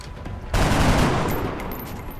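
In XCOM: Enemy Unknown, a soldier firing from behind a truck lets off a sudden loud burst of gunfire with a heavy low boom. A dense rattling decay trails off over the next second and a half.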